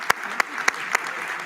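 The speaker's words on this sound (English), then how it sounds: "A round of applause" Applause from a livestreamed event's audience, a steady patter of clapping with a few louder individual claps near the start, brief and moderately loud.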